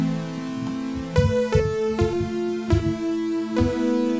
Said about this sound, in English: And then I'm going to get my sustain from this pulse width modulation square wave.